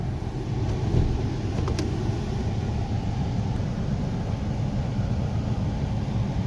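A JDM car pulling away for a drive, a steady low engine and road rumble heard from inside the cabin, constant and fairly loud, with no talking.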